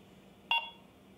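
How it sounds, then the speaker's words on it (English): A Marbl Orbit Pro motorized camera rotator gives a single short, faint electronic beep on completing a full rotation, standing alone against a quiet background hum. "So the Orbit will beep as it makes a full rotation."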